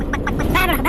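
A person mimics a duck's quack during a mimicry game among friends, giving a few short nasal bursts within a second, close and loud, with voices mixed in.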